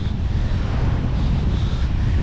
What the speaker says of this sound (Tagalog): matakas na yung alon oh